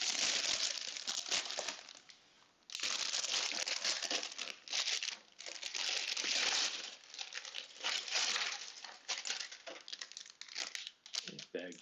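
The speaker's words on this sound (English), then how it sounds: "here we go with another crinkly bag." Crinkly plastic LEGO parts bags are handled close up, crackling and tearing in dense bursts with brief pauses between rounds of crumpling.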